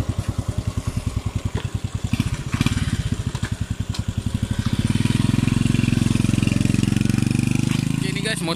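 A Honda EX5 High Power motorcycle engine putters with a rapid, regular beat, then revs up into a louder, steadier roar that holds close by.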